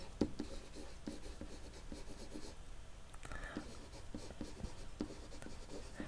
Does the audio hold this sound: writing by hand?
yes